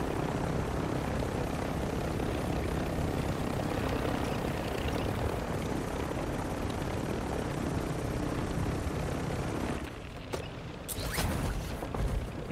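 Helicopter rotor and engine noise from the game Warzone Mobile, a steady loud whir filling most of the clip before dropping off near the end, with a few sharp bursts at the close.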